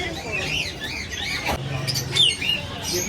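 Parrots of several kinds squawk and chirp in a series of sharp, rising calls, fairly close, with other birds and background noise mixed in.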